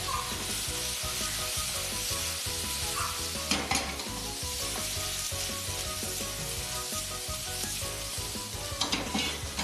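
Shrimp fry in a hot pan for a ramen topping, with a dense, continuous close-up sizzle and occasional stirring scrapes throughout.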